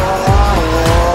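A car's tires squeal briefly as it pulls away hard, a loud close screech over engine roar with two quick rising chirps.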